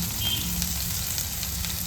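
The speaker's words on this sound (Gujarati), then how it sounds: "આપણું તેલ ગરમ થઈ ગયું છે. એમાં આપણે લસણ, મરચીની કતરી, આદુ" Garlic, sliced chili and ginger sizzle in hot oil, a steady close crackling hiss with soft pops that runs unbroken with no talk.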